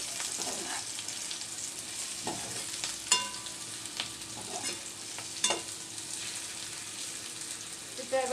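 Pointed gourd and potatoes fry in a pan with a soft steady sizzle, broken by occasional clinks and scrapes of stirring, heard close up without speech.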